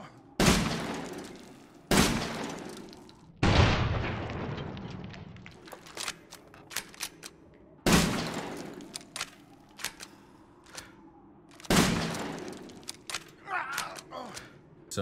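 Loud, booming blasts from the SYG-12 semi-auto shotgun in Resident Evil Village, fired about five times at irregular intervals against a large lycan, each shot followed by a decaying tail and scattered clatter in between.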